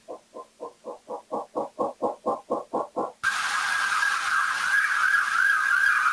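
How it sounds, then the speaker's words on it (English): A recorded siren plays, opening with about a dozen rhythmic rising whoops that build in loudness, then switching to a sustained, wavering high wail over a broad hiss. No voices are heard. "That's obviously sirens."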